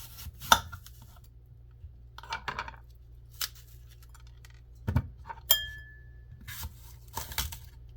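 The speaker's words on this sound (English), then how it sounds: "So I cut the apple." A knife cutting through an apple on a board, a few sharp, separate clicks and taps with short crunchy bursts spaced out over quiet, close and fairly soft, no talking.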